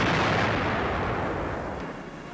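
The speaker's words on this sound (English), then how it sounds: "A depth bomb. The convoy is explosively hunting submarines." A WWII depth bomb explodes at sea near a convoy hunting submarines, a loud, dense roaring blast that slowly fades over a couple of seconds, with no voices over it.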